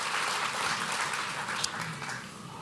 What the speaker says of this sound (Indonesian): kasih tepuk tangan dulu buat Tuhan kita